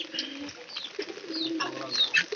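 Pigeons kept as racing birds coo in soft, low repeated calls close by, with a few brighter chirps mixed in and no speech over them.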